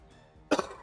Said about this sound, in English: What is that cough, dude?